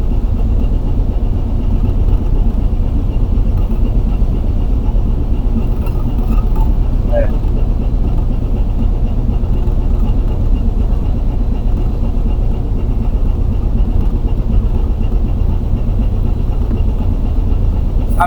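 A ship's engine runs steadily with a Manila harbour pilot on board, a loud, unbroken low rumble filling the whole stretch while voices talk over it.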